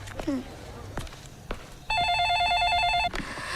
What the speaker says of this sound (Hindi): फोन को भी अब भी आना था।